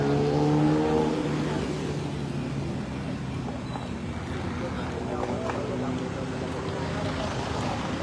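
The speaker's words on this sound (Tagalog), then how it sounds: "Ayan, daming traffic." Busy street traffic in Pasay City, a steady wash of passing car engines and road noise with a louder vehicle pulling away at the start.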